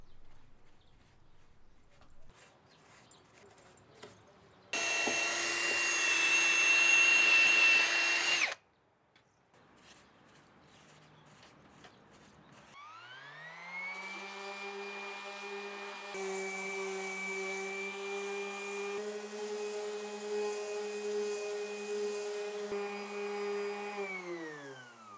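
A small grinder whines against a rotten tree stump in a short loud burst, then after a pause a power tool spins up with a steady rising and settling motor drone, sustained to the end alongside faint background noises.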